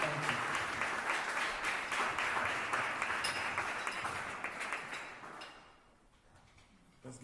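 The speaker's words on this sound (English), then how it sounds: "Let's give another warm round of applause for Mr. Yusuf Muhammad." An audience at a gala claps in sustained, dense applause that stays loud for several seconds before thinning out and fading toward the end.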